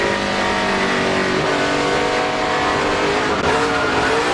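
A NASCAR race car engine screams loudly on throttle during the 2004 Siemens 300, a continuous high-pitched roar that dips briefly and then climbs again.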